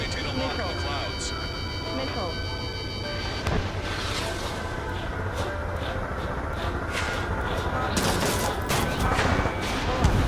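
Enemy gunfire in the combat flight game Ace Combat 7: dense, rolling bursts of shots under a continuous aircraft roar, growing heavier toward the end, with radio voices talking over it.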